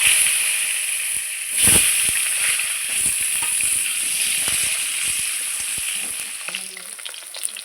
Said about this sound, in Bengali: আলু আমার লাল লাল করে ভাজা হয়ে গেছে